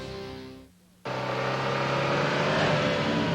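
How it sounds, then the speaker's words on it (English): A car with a slipping, faulty transmission gives a steady harmonic whine that briefly cuts out, then breaks into a loud, sustained engine roar close by. "The slipping, the whining, sounds like a transmission problem."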